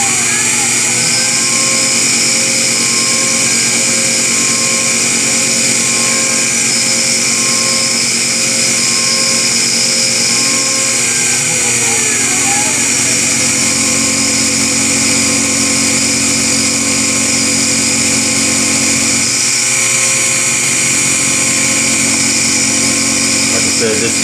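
A CNC end mill sticking out far from its holder rough-cuts a Hemi valve cover on a profiling pass, giving a steady, loud, high-pitched machining whine with tonal bands that shift slightly as the cutter moves around the part.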